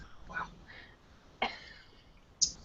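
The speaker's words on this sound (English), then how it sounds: "Just coughed right in front of everyone." A person coughs, with a short sharp cough and a throat-clearing sound spread over a few seconds, fairly close with faint background noise.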